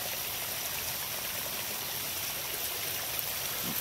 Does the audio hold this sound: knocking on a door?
no